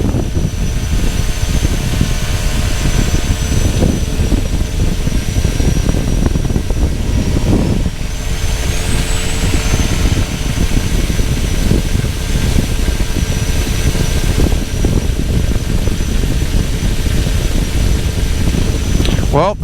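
A light floatplane taxis on Lake Jordan, its engine and propeller droning loudly and steadily under power lines, with a small shift in pitch partway through.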